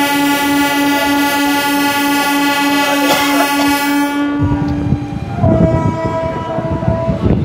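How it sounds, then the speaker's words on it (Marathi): A Vasai–Diva MEMU local train pulls out of platform 7 at Vasai Road station, a long loud horn blast sounding first, then rumbling wheels and rail clatter building as it moves off. "वसई दिवा मेमू वसई रोड रेल्वे स्टेशनच्या प्लॅटफॉर्म नंबर 7 वरून दिवासाठी निघाले"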